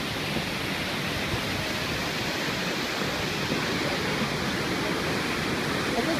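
Continuous roaring rush of the Kegon waterfall in Nikko, Japan, a dense, even wash of falling water that stays steady throughout.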